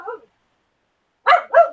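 One brief yip followed, after a pause, by two sharp, close dog barks.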